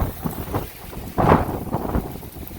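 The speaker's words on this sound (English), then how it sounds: "you can see how that gust of wind right there just hit it" A strong wind gust slams into an ARB awning with a Deluxe 8x8 room in high winds, a sudden loud flapping whoosh rising briefly amid ongoing buffeting wind noise.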